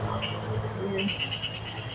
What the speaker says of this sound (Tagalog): Daming sumisigaw na mga palaka.